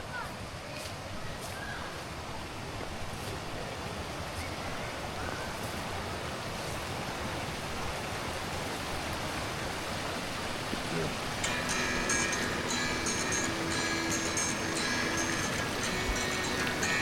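Steady rushing creek water flowing continuously, broadband and fairly loud, with a faint higher tone entering partway through.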